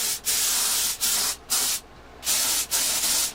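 Sand sealer sprays onto a custom Firebird-style guitar in six short hissing bursts, each about a third to half a second long, separated by brief gaps, close and fairly loud.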